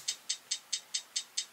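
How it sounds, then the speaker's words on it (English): A crisp, bright hi-hat ticks seven times in an even, steady rhythm in a gospel-inspired beat, close and clean with nothing else playing. "this is what the hi-hat sounds like"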